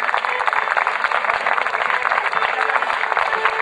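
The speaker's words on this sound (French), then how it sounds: "On peut applaudir peut-être toute cette belle compagnie" Applause for the musicians at a wedding party, a dense, steady crowd clapping that stays loud and continuous throughout.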